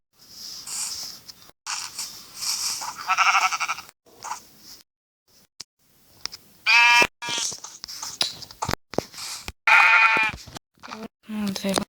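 Sheep bleating in a video game, a few wavering bleats that sound close and clear in the middle and later part, mixed with game effects and someone talking.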